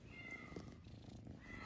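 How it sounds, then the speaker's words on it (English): A roughly three-month-old kitten purrs steadily and softly up close, a continuous low rumble throughout with no voices. "listen to that purr"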